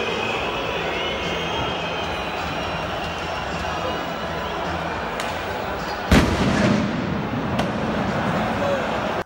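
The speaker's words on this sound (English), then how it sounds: "launching flares, fireworks and even petrol bombs at the Dutch supporters" Football ultras set off flares, fireworks and petrol bombs inside a stadium: a constant crowd rumble broken by one sharp, loud blast and a second, smaller bang shortly after.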